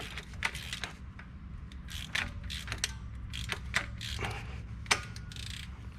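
Mechanical ratcheting and creaking come from a Ford Duratec engine in an NC Miata being turned over by hand during an in-car camshaft install, a steady run of close clicks and metallic knocks with no talking.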